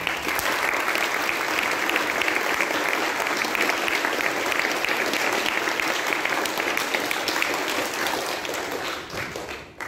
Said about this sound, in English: to those staff members, we deserve a round of applause